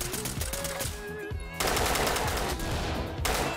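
Rapid gunfire rings out in the tactical shooter Ready or Not, dense bursts of loud shots that break off briefly near 1.5 seconds, then resume in a sustained volley.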